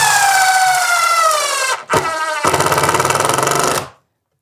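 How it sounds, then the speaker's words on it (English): A power driver whines at high speed, then briefly stalls and pulses as screws are driven into wooden boards for a porch bench, loud and close, a few seconds of motor tone ending abruptly. "Then put 2 more screws in each board."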